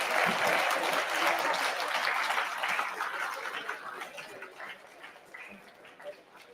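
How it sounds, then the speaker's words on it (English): A conference audience applauds loudly, the clapping gradually thinning out and fading over several seconds. "Everybody, clap, clap."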